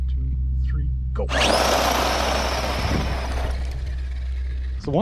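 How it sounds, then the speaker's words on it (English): A Kyosho Outlaw Rampage RC truck's motor lets out a loud, harsh squeal that surges up abruptly, holds for a couple of seconds, then fades back under a steady low hum. "these Kyosho Outlaw Rampages is the noise they make. They make a heck of a squeal"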